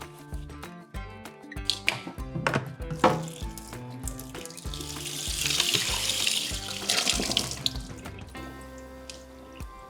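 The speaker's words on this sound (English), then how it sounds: "Okay, then you take a sponge, just gently clean it." Running tap water splashes over a greasy Bosch range hood mesh filter as a sponge rinses it in a sink, a steady close-up wash with scattered drips and clatters of handling, no voices.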